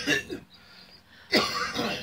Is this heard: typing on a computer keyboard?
no